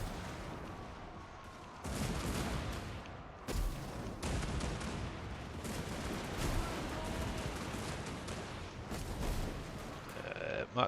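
Flame cannon and crossbow fire in a Total War Warhammer 2 battle: dense, continuous booming and crackling volleys with sharp bursts around two and four seconds, loud and sustained, with no talk over it.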